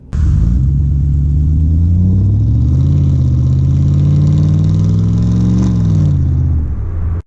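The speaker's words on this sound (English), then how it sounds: "let's take the Mercedes E500 for a spin" A 1994 Mercedes E500 with a 5-liter V8 pulls away from inside the cabin, a loud, deep steady engine rumble rising and falling in pitch as it gathers speed through the gears.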